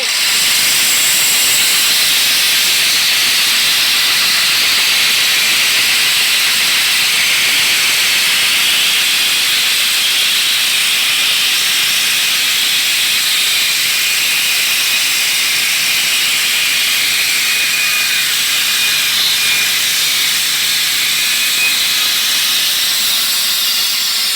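A saw cuts through 2x4 lumber, giving a loud, steady, broadband hissing roar that runs unbroken for the whole stretch with no talk.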